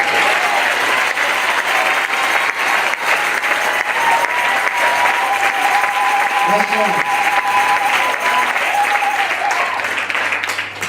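Church congregation applauding at a revival service, sustained clapping filling the room for about ten seconds while a voice speaks briefly over it.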